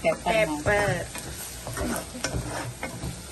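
Crab gravy masala with pepper sautés in a pan, giving close sizzling and frying with stirring scrapes, while a voice talks over the start.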